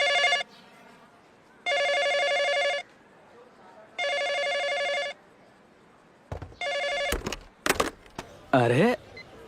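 A phone rings with three evenly spaced electronic ringtone bursts, fairly loud and close, before the ringing cuts off into a few sharp clicks and brief sweeping noises.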